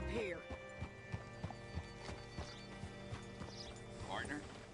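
Horse hooves clip-clopping at a steady walking pace in the video game Red Dead Redemption, distinct close hoofbeats over a faint background with speech alongside and a brief whinny-like sound near the start.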